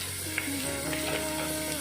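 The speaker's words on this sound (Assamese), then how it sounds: "মটৰ আৰু গাজৰখিনি অলপ সময় ভাজি ল'ম।" Peas and carrots frying in a pan for a home-made pulao, a close, steady crackling sizzle that runs unbroken through the short moment, with no talking.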